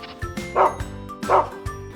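A small cartoon dog in an animated Ukrainian folk tale gives two short barks, spaced apart, over a soft rhythmic background of light thumps.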